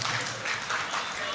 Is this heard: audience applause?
yes